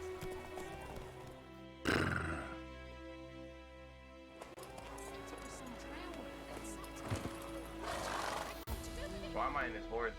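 Horse sounds in The Witcher 3: a sharp whinny and snort near the start, then hoofbeats clip-clopping and further horse noises over a game soundscape, with a voice speaking at times.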